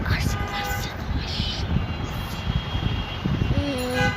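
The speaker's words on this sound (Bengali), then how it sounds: "হ্যাঁ, ট্রেন আসছে।" An approaching train builds a loud rumble of wheels with rail noise, and a brief tonal horn-like blast near the end; a voice speaks in the background.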